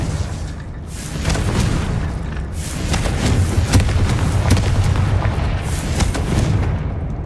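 Repeated Confringo fire spell blasts in Hogwarts Legacy: loud, dense booming explosions with sharp cracks layered over a continuous heavy rumble, steady throughout.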